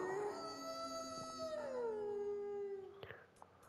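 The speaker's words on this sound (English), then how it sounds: "We have Howl Emote." Howl emote from the Fortnite video game: a single drawn-out, wavering howl that rises and bends downward, heard alone and fairly close, ending in a few brief clicks.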